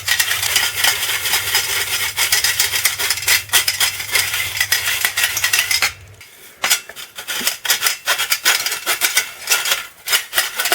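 A metal spoon scrapes and rubs homemade all-purpose baking mix of flour and dry ingredients through a fine sieve, giving close, steady gritty scratching with rapid taps and rattles that grow sparser midway.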